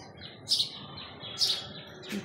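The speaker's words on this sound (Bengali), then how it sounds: "কিন্তু পাখিগুলো কি সুন্দর ডাকছে, কিচিরমিচির করছে।" Birds chirp in a sunny home garden beside a heavily fruiting mango tree, with two bright bursts of tweeting calls and a third fainter one over a soft steady outdoor background.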